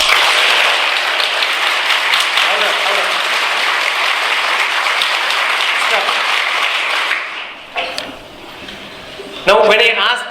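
An audience of students claps together during a positive-thinking lecture at an engineering institute, a loud, dense roar of hands lasting several seconds before breaking off abruptly. A speaker's voice follows in the quieter tail.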